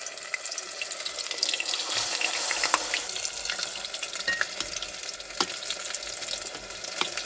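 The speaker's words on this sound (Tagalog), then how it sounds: "nagpainit ako ng mantika at ipiprito natin ng ito yung bulaklak ng kalabasa" Squash flowers frying in hot cooking oil, a steady crackling sizzle that runs throughout with scattered sharp pops, close and fairly quiet, no voices.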